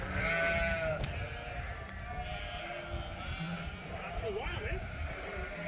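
Sheep bleat a few times amid a flock on a farm where some have been recently sheared, with a person talking over them throughout.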